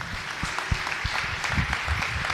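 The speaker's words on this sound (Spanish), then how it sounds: "Aplauda fuerte." A church congregation applauds loudly and enthusiastically, a thick, continuous roar of clapping close by with scattered louder hand strikes standing out.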